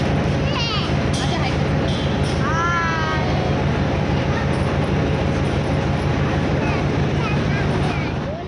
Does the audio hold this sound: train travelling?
yes